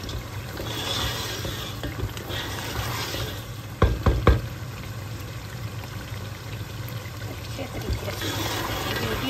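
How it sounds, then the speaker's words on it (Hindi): Meat with spices fries steadily in a pan, a continuous sizzle with bubbling, broken by a few clanks of stirring partway through. "मीट जो है वो अच्छे तरीके से उसकी भुनाई हो रही है"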